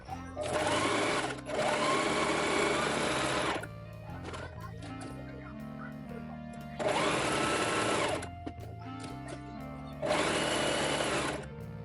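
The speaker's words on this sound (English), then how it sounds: "we're ready to start sewing the elastic on" A sewing machine stitches elastic onto small doll mittens in three loud, steady whirring bursts, each a few seconds long, separated by quieter gaps with light handling clicks.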